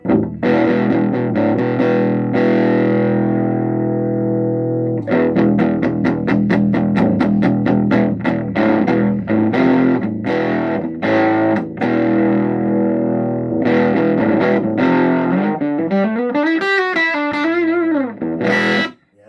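An electric guitar played through a Dark Lord amp sounds distorted and honky, with strummed chords, sustained ringing notes and a bending, warbling lead line near the end, loud and alone.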